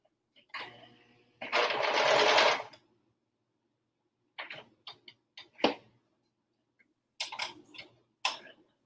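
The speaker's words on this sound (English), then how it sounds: "when you are turning on a home sewing machine versus a industrial, it's easier to turn on a home machine" A home sewing machine runs in a steady burst of rapid stitching lasting about a second, followed by shorter ticking spurts and stops, close and clear with no talking.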